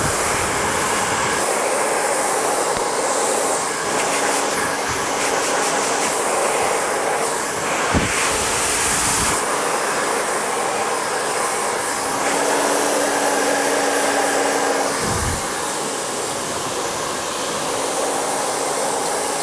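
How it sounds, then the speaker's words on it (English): A hair dryer blows steadily and loudly throughout while hair is dried, a continuous broadband roar with slight shifts in pitch and a couple of brief thumps partway through. "You're never going to be really drying your hair the right way if you do that."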